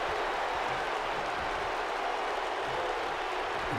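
A WWE 2K wrestling arena crowd booing, a steady, broad wash of crowd noise throughout with no distinct peaks.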